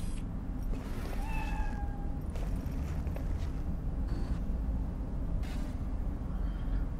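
Two or three short, high meows from a cat inside the Cyberpunk 2077 Phantom Liberty video game, faint and spaced apart over a low constant ambient hum.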